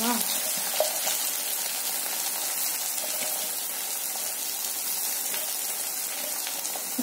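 Chopped onions hit hot oil in a pan for a bitter gourd poriyal, giving a loud, dense, unbroken sizzle that holds steady throughout with only faint stirring clicks, up close and without speech.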